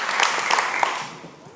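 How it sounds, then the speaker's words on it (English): Keynote audience gives a brief round of applause after a paper airplane flight: dense, continuous clapping at moderate volume that fades slightly toward the end, with faint voices mixed in. "Round of applause."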